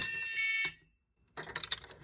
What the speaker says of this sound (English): In normal mode, the alarm would continue to sound after I reset the pull station